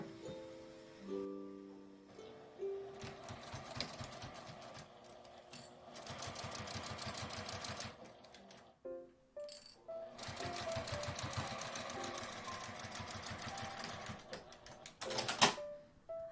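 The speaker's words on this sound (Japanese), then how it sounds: "内側に折って両端を1センチの縫い代で縫います。" A sewing machine stitches fabric hems for a small mini ironing board, running in long rapid mechanical bursts with brief pauses between, close and steady.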